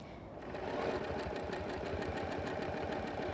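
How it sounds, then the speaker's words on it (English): A home sewing machine running in free-motion quilting mode with a ruler, a steady rapid mechanical chatter of the needle that starts up and holds an even, close, moderately loud rhythm. "We're working in free motion quilting mode."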